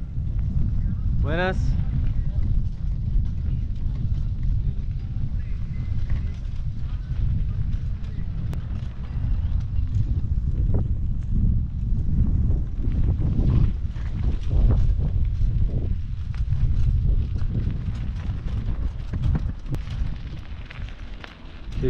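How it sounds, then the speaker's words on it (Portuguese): Strong wind blowing at a campsite on the beach in Puerto San Julián, Argentina, a steady low buffeting roar across the microphone throughout, with people talking over it. "Aqui já vai um vento bom, ó."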